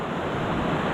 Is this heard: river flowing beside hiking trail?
yes